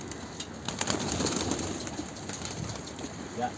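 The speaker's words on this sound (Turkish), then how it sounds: "Çok güzel bir kuş ama." Soft, low pigeon coos murmur through a steady noisy background, fairly distant and faint, with no talking.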